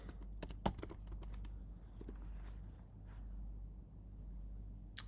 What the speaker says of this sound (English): I'm just gonna hit Command C to copy it on my keyboard.